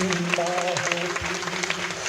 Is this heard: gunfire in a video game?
no